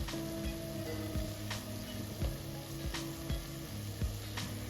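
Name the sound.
ginger garlic paste frying in pan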